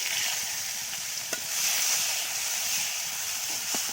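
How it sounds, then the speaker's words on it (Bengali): Chopped onions hiss and sizzle steadily in a hot frying pan previously used to fry fish, with a couple of faint stirring clicks over the continuous close frying noise. "এবার আমি যে কড়াতে মাছ ভেজেছিলাম সেই কড়াতে পেঁয়াজ দিয়ে দিচ্ছি।"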